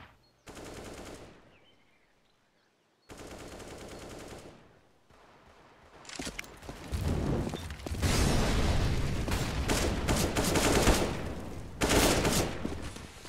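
Gunfire bursts from a Counter-Strike pro match on the Inferno map, with pistol shots opening the round: two short loud volleys with a gap between, then sustained, dense shooting that grows louder and fuller and keeps going to the end.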